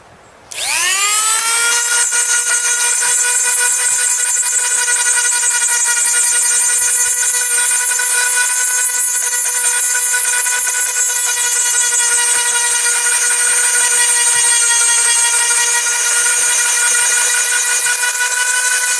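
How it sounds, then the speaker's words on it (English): Dremel rotary tool fitted with a carbide ball bit carving cottonwood bark, a loud, steady high-pitched whine that spins up quickly and holds for the whole stretch, alone with no talking. "Carbide ball in the Dremel."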